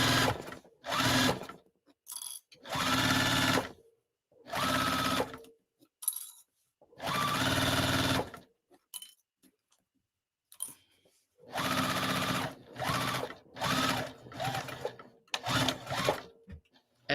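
A sewing machine stitches canvas for a tote bag in loud, close bursts of rapid mechanical whirring that stop and start repeatedly over several seconds, running louder than usual even after a needle change.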